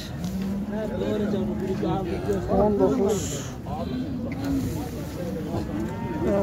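Cattle low and moo repeatedly in a crowded Turkish livestock market where cows, bulls, heifers and calves are traded, their calls mixing with near, busy talk from several people.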